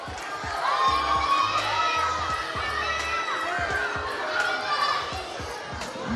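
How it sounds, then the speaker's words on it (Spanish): Cheering and applause fill a school diploma ceremony for primary students in Buenos Aires, with a steady crowd roar, scattered shouts from children and chatter throughout, loud and close. "Fuerte el aplauso para los poetas."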